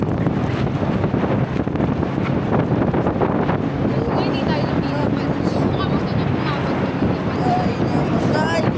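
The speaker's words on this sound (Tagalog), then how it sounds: "Mahangin kasi." Strong wind hits a boat with a constant low roar and buffets the microphone, while people talk faintly under the blustery noise, which stays at the same level throughout.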